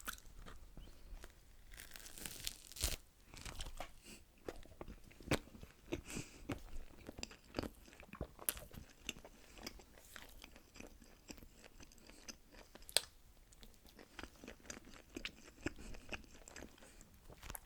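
Close, quiet crunching as someone bites into and chews a crusty sandwich, with irregular crisp bites and wet chewing, in soft ASMR style and no talking.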